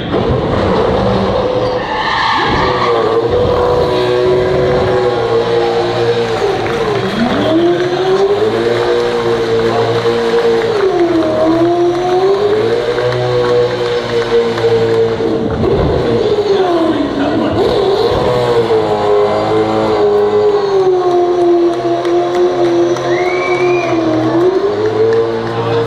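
Jamie Whincup's race car doing burnouts on a snowy surface, its engine holding a loud, sustained revving drone with rising and falling pitch and continuous tyre skidding throughout, with voices faintly beneath.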